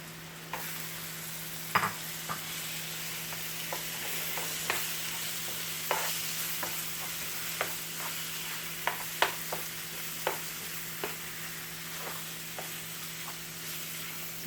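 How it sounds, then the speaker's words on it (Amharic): Crumbled tofu frying in a pan gives a steady bright sizzle, close and even, with regular light scrapes of a utensil stirring through it every second or so and no talking. "ቶፋችንን ወደ መጥበሻ እንገለብጣለን።"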